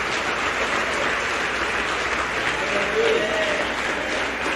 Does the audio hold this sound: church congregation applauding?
yes